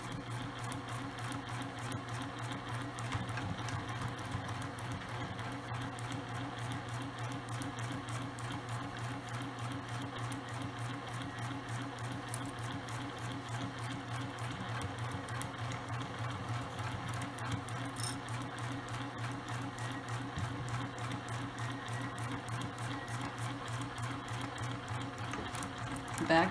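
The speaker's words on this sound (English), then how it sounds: "And I'm going to continue to sew." A sewing machine stitches through a zipper tote with fabric, running continuously at an even, rapid rhythm throughout, close and steady with no pauses.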